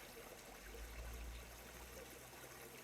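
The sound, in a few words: flowing water outdoors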